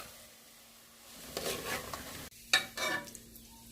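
Onions drop into hot oil left over from frying taro root and set off soft bursts of sizzling with stirring scrapes. It is quiet and close, with a short silent gap between the bursts.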